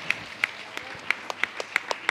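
Steady hand clapping at a church shrine gathering during an adoration service, sharp single claps arriving in an even rhythm about three per second, fairly close and clear with no voices over them.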